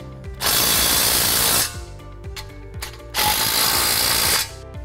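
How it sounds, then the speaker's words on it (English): An impact wrench tightens bolts on a sign post anchor in two loud, close bursts of rapid hammering, each lasting over a second, separated by a quieter pause. "we just use an impact to tighten down the bolts"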